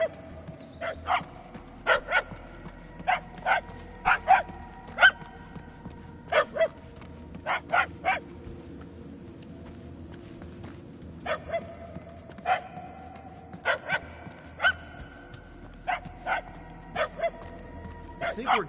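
Dogs barking from somewhere in a video game maze, sharp repeated yips in quick pairs and clusters that come and go in waves over a low droning ambience, with game characters talking in between.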